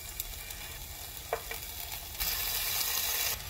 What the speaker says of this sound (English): Your pan is ready when you hear the sizzle.